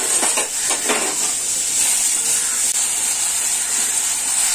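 Olive oil sizzling and hissing in a hot pan as panch phoron, dry red chilli and a little ginger are tempered, a bright continuous frying hiss with a few soft clinks of utensils early on.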